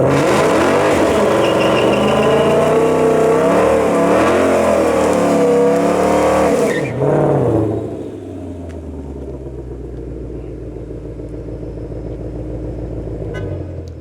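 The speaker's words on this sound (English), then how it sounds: "And it's also capable of doing really cool burnouts." A Ford Mustang Shelby GT500 supercharged V8 roars loudly at high revs for several seconds during a burnout, then abruptly drops to a lower, steady rumble.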